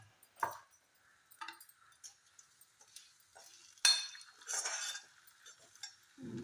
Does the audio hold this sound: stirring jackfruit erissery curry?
yes